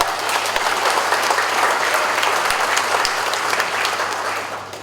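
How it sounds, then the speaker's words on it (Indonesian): Audience applause during a security coordination meeting, honoring football supporters; even, sustained clapping from a roomful of people that fades a little at the close. "Tepuk tangan untuk Bobotoh dulu."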